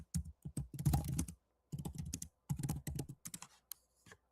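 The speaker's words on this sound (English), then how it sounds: "Here, let me type in, for example, let me do my company." Someone types on a computer keyboard in quick bursts of close, crisp key clicks separated by short pauses, with no voices.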